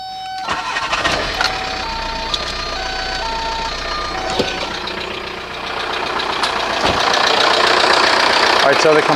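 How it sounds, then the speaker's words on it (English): A 1998 Volkswagen A3 Jetta TDI diesel engine runs steadily while its air-conditioning compressor kicks on during an A/C recharge. Several short beeps in a stepped sequence sound near the start, followed by a brief clunk and a gradual rise in engine noise. "the compressor just kicked on"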